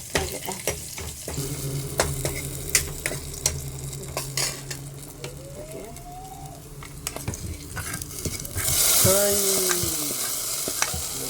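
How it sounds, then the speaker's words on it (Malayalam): Cashews and raisins frying in ghee for payasam, heard as crackling sizzle with repeated sharp spoon-against-pan stirring clicks and scrapes. A louder burst of sizzling near the end follows a frying drop. "അണ്ടിപ്പരിപ്പ് മുന്തിരി നെയ്യിൽ വറുത്തിട്ട്"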